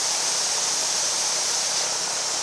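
A spray gun for slicksand coating is reverse flushed, giving a steady loud hissing, bubbling rush of air and liquid that holds without a break.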